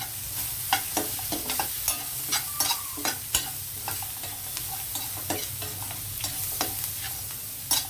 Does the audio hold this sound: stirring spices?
yes